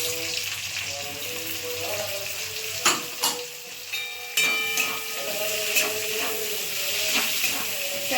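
Sliced capsicum goes into a hot pan with chopped green chilli for paneer chilli, hissing in a loud steady sizzle punctuated by several sharp utensil clinks and scrapes as it is gently stirred.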